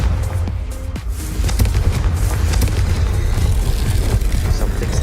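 In the video game Hogwarts Legacy, a Confringo fire spell goes off with sharp blasts at the start, followed by a deep, sustained explosive rumble that fills the rest of the moment loudly and up close.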